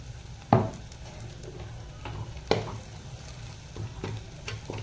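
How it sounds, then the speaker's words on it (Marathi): Onion with a coconut, garlic and coriander paste frying in oil, a low steady sizzle with a few sharp stirring scrapes against the pan. "तर हे जरा तळलं जाते त्यामध्ये जरा मध्ये थोडंसं परतले तेल तेलमध्ये येतं त्याच्यामुळे तर छान खरपूस कांदा भाजून घ्यायचा आहे"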